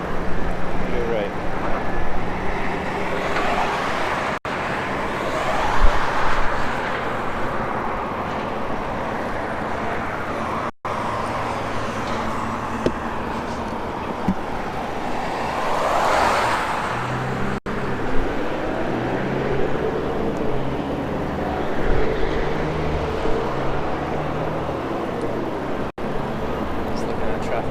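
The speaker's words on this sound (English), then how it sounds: "Just looking at traffic right now." Road traffic at a busy intersection in Amarillo, Texas, with vehicles passing nearby and a steady roar that rises and fades as they go by. Voices talk over it in places.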